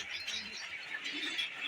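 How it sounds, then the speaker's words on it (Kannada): Birds at Ranganathittu bird sanctuary give faint, high chirps and tweets over quiet background air, heard briefly and from some distance. "ಅಲ್ಲೋಡಲ್ಲಿ ಬೇಬಿ ಬರ್ಡ್ಸ್ ಐತೆ"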